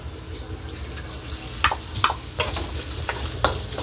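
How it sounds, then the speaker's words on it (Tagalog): Ham and hotdog frying in a pan, a steady close sizzle with a few sharp scraping stirs and clatters of a utensil against the pan, no voices. "Iprito muna yung mga idol, yung ham po natin at saka yung hotdog."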